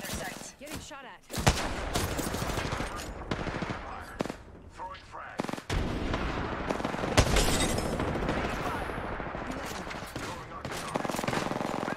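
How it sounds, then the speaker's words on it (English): Gunfire in the battle royale video game Apex Legends, with dense automatic bursts and sharp shots filling most of the stretch, loud and continuous, with a voice faintly talking under it. "Getting shot at."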